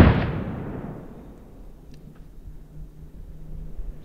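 A single rifle shot rings out while hunting a roe deer buck, one sharp boom at the very start that rolls away in a long, fading outdoor echo and leaves a quiet background.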